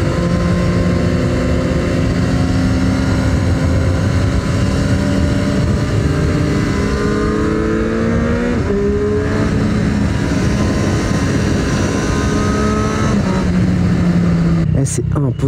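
Triumph Street Triple 765 RS motorcycle with stock exhaust riding on a road in Corsica: a steady engine drone with gear changes and shifting pitch, loud and continuous, accompanied by wind noise.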